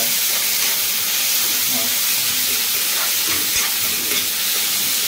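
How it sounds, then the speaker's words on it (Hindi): Tomatoes tipped into onions frying in a pan hiss and sizzle steadily, a loud continuous spitting close by while a voice speaks briefly. "तो गाइस टमाटर डालने वाले हैं, प्याज डाल हो गई है, टमाटर डाल देते हैं"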